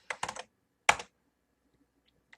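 Typing on a computer keyboard: a quick burst of close keystrokes, then a second short cluster, then a single faint tap after a pause, in an otherwise quiet room.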